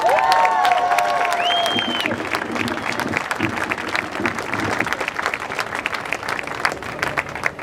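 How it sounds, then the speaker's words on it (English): Sustained audience applause with cheering fills a rally crowd, dense clapping running steadily throughout at close range, with scattered whoops early on. "Give him a round of applause"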